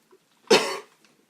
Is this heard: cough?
yes